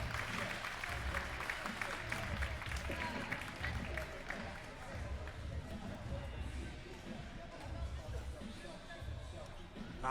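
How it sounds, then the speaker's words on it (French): Crowd applauding a scooter rider at a skatepark amateur final, steady distant clapping and cheering under an announcer's voice. "Applaudissements pour Océane Lecointe"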